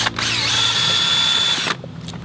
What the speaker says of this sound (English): I'm going to begin mixing it up with my drill.